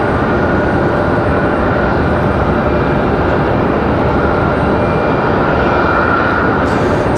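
An American Airlines jet passes an airport viewing spot at Raleigh-Durham, its engine roar a loud, steady broadband rumble that holds throughout with a slight swell near the end; no voices.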